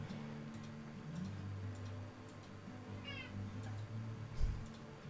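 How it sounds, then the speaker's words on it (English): A cat meows once, briefly and close, over a steady background hum and faint ticking indoors, with no talking. "Don't meow at me."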